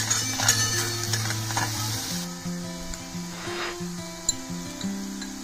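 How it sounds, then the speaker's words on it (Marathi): Spices and homemade chili powder sautéing in oil in a pan, a soft continuous sizzle with light stirring scrapes, fairly quiet and close with no talking. "आता हे सर्व साहित्य छान परतून घेऊया"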